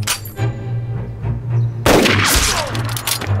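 A single loud, sharp sniper gunshot cracks out partway through a scene in a Chinese war drama set during the Japanese occupation. A low, steady hum comes before it, and a bright, echoing tail follows the shot.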